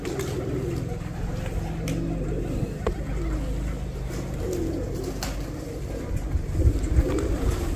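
Kept pigeons coo steadily in a low, murmuring chorus, close by, with a faint traffic-like rumble underneath throughout.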